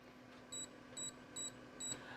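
An air fryer's control panel gives four short electronic beeps, evenly spaced about half a second apart, clear against a quiet hum while being set to 1800 watts.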